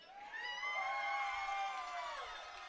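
A high school football crowd cheering at a night game between SHS and Sheridan, a sustained mass of voices and high whoops, fairly distant and moderately loud, swelling and then easing off.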